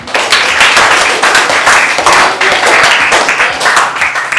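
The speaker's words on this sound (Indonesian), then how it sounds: "Aplaus buat kita semua." Applause from a classroom of students, dense continuous clapping that stays loud and steady throughout with no talk over it.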